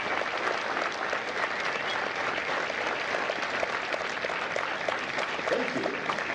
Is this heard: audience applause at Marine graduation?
yes